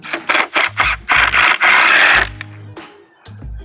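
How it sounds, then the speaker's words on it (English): A screw is driven into the top layer of PVC pipe at a diagonal: several short, loud whirring bursts of a power driver build into one longer grinding run, then fade to quiet with a couple of light clicks. "You put the screw through the top layer of the PVC pipe, and you're ready to go."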